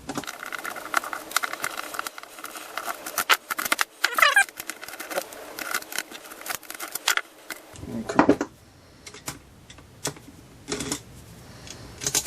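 A Phillips screwdriver backs screws out of a DeWalt DW321 jigsaw, making close, sharp ticks and scraping squeaks in uneven bursts, then a quieter stretch with scattered clicks.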